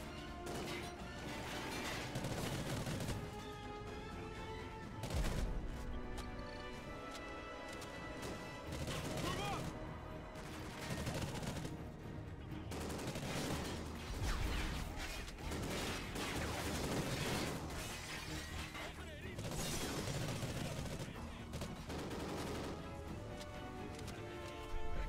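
Rapid gunfire from a hard-recoiling gun in the video game Call of Duty Ghosts, dense bursts with crashes and mechanical clatter running almost continuously, loud and close.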